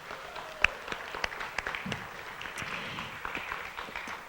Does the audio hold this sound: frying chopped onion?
no